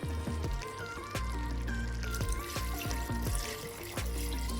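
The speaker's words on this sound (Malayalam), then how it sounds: "ഞാനിപ്പോൾ 1 കപ്പോളം വെള്ളം ഒഴിച്ച് കൊടുത്തിട്ടുണ്ട്." Water is poured from a cup into a pot of mutton curry for macaroni, a steady trickling pour heard close up above a low background hum, with faint clinks.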